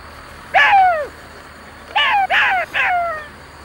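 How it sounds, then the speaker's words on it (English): Four rapid, wavering yelps from a jackal, one alone and then three in close succession, clear and fairly near against a quiet background. "Jackal."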